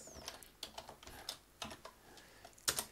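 Fingers tap out a command on a computer keyboard in quick irregular bursts of clicks, fairly quiet and close, ending with a sharper keystroke like a press of the enter key.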